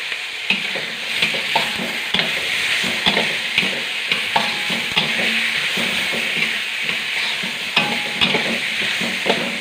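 Garlic, onion and ginger sautéing in a hot pan, a loud continuous sizzle broken by frequent scraping and tapping of a spatula against the metal.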